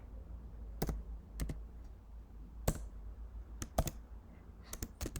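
HTML code being typed on a computer keyboard: scattered sharp key clicks come singly and in short bursts, close and fairly quiet, with no talking.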